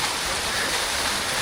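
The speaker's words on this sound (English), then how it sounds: "the waterfall coming down" A waterfall pours into a pool at night at Las Grutas de Tolantongo in Hidalgo, a loud, dense, continuous rushing roar heard up close with no break.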